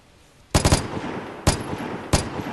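A Vigor LMG fires in a video game, sounding as three sharp bursts: first a quick cluster of three or four shots, then two single loud reports spaced apart, each with a short echoing tail.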